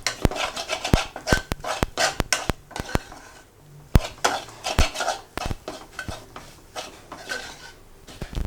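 Coriander powder sautéed in a crab roast pan, with a rapid run of sharp metal spoon clinks and scrapes against the pan, fairly close and busy, no talking.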